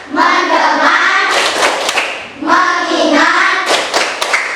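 A classroom of children does a rhythmic focus clap, with loud, sharp hand claps in a patterned beat mixed with children chanting together in unison.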